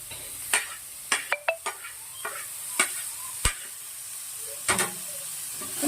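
Paneer stirred into a peppery momo stuffing in a hot pan, heard as a soft steady sizzle broken by a series of sharp spoon clacks and scrapes against the pan, with no talking.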